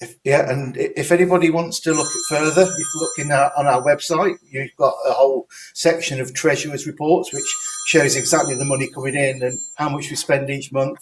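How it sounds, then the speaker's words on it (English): A mobile phone rings faintly in the background with short bursts of electronic tones, mostly masked by someone talking steadily over it. "That was my phone ringing in the background"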